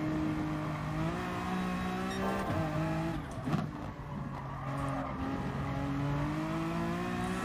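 A Honda NSX Gr.3 race car in Gran Turismo Sport at the Nürburgring holds a loud, close engine note that shifts pitch through gear changes, with a brief tire squeal midway.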